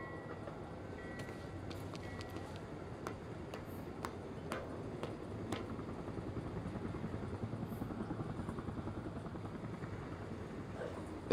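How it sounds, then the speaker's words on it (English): Helicopter in the video game Quantum Break, a steady rotor drone with dense low thumping that holds throughout, with occasional sharp ticks on top. "Better get inside before the chopper spots me."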